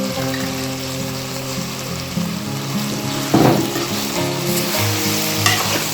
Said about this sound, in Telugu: ఈ టైంలో మనం అల్లం వెల్లుల్లి పేస్ట్ వేసుకోవాలి